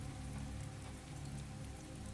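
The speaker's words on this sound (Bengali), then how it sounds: "বৃষ্টি তখনও পড়ছে।" Steady rain pours in a dark palm grove at night, a continuous dense hiss of drops on surfaces that holds even and loud throughout with no voices.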